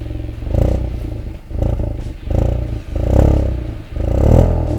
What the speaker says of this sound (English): this is the new chrome dual tip exhaust, which just doesn't look the part